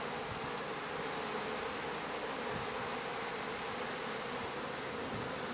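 A dense, steady buzz of many honey bees close by as they are smoked off the hive's top bars, continuous and fairly loud throughout with no voices.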